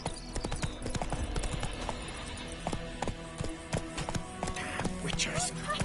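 Horse hooves clip-clop at a gallop in The Witcher 3 on PS5, a steady rapid rhythm of close, sharp hoof strikes running throughout, with a voice speaking over the hoofbeats.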